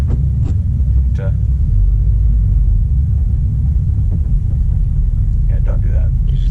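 A manual-transmission car driven slowly while the driver works the clutch and straightens the wheel: steady low engine and road rumble from inside the cabin, with a few small clicks and a person talking over it.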